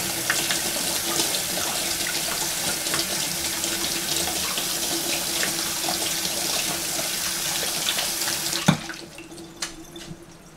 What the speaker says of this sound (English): So I just run it under cold water.